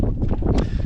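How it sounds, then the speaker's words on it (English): Low, rumbling wind buffeting the microphone in loud gusts at Coral Pink Sand Dunes in southern Utah, filling the short moment with muffled roar. "There's nothing to block the wind"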